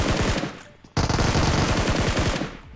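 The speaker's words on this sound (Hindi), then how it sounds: "लेकिन मैं प्री फायर देकर इनको बता देता हूँ।" Rapid automatic gunfire bursts in the BGMI mobile battle royale game, loud and close, a sustained rattling stream with a brief pause near the first second before firing resumes.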